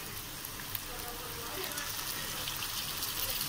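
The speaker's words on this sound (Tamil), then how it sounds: "இப்போ நம்ம இந்த கழுவி எடுத்து வச்சு மஞ்சள் தடவி வச்சுக்கிற இந்த இறால அதில் போட்டுக்கலாம்." Turmeric-coated prawns hitting a hot pan of fried tomato and onion set off a steady, dense sizzle with a brief clatter near the start, the crackling swelling slightly as the prawns settle.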